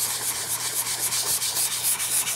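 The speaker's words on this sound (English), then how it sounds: "More sanding, woo!" Sandpaper of 220 grit rubbed over a wooden Lego sword blade, a steady close scratchy rasp in repeated back-and-forth strokes with no talking.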